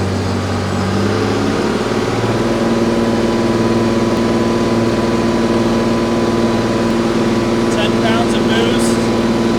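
An Allis Chalmers 210 tractor engine runs steadily at full throttle just after an overhaul, a loud continuous low drone with strong harmonics filling the whole stretch, with no talk over it.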